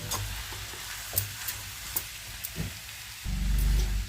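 A green chilli potato fry is stirred in a pan with coriander powder, giving steady close sizzling and scraping with a few light taps, then a low rumble rising near the end, no talk.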